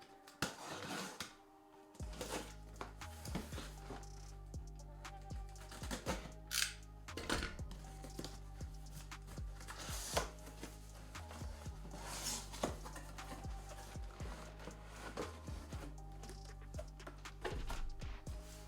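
A sealed brown box wrapped in eBay tape holding Air Jordan 1 Mid SE sneakers is opened by hand: close cardboard tearing, tape ripping, and clattering handling knocks come in irregular bursts over a steady low hum, with no talking.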